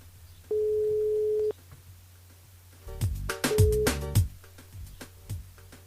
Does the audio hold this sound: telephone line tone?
yes